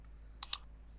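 A pair of quick, crisp mouse clicks on a computer, close and fairly quiet, over a faint steady hum.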